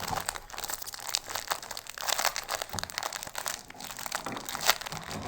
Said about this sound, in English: You're going to open up this package.